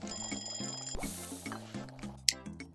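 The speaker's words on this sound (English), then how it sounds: "Man, those alarms are going to be lifesavers." A timer alarm rings in the coffee-shop cooking game Papa's Mocharia, a bright repeating electronic beeping over a steady game music loop, with a short sharp click near the end; no speech.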